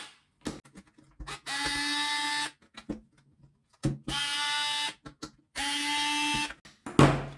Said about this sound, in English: let's remove the screws